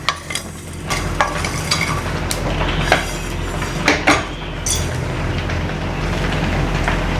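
Mustard seeds spluttering and popping in hot oil while fish medicinal kuzhambu is prepared, a steady close sizzle broken by sharp crackles and light clinks of a utensil against the pan.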